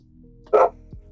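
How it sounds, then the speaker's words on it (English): A pet dog lets out a single short, sharp bark close by in a quiet room, followed by a faint whimpering slide. "That is my baby dog."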